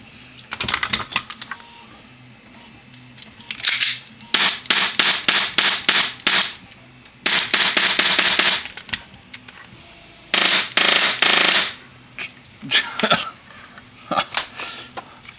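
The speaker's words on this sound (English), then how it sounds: "let's just shoot a couple, see if it actually functions" A custom-built AAP airsoft pistol is test fired. Bursts of sharp, rapid clicking shots come in quick clusters, loud and close, separated by brief quiet gaps.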